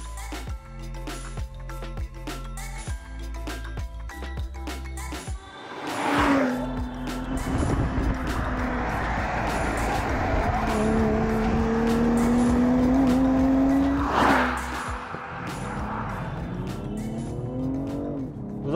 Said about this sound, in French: Eh bien ça, c'est le 6 cylindres d'une BMW.